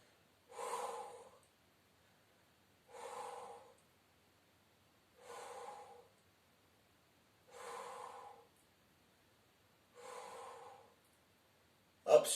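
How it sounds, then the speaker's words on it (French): A group breathes out and in during a gentle gym warm-up, five evenly spaced airy breaths about two and a half seconds apart, with near-silence between them and a short sharp sound at the very end. "Souffle en avant, inspire en arrière."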